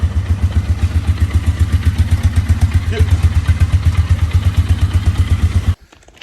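A Polaris Scrambler 500 ATV engine idles close by with a steady, rapid, throbbing putter, then cuts off abruptly near the end.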